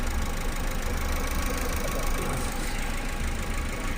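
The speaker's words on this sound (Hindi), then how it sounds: "इंजन स्टार्ट है तो चल रहा है, देख सकते हैं बिल्कुल स्टेबल।" A Maruti Suzuki Eeco engine idles after an overhaul, running as a steady, even rumble with a faint ticking knock, close and continuous, without any talk.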